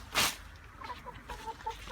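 Chickens on a home farm cluck softly in short, scattered bursts after one louder rustling flutter, fairly faint and close, with no talking.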